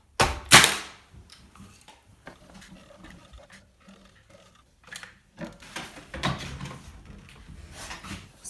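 Pneumatic nail gun firing while installing interlocking shiplap boards, two sharp close bangs at the start followed by quieter scattered taps and knocks.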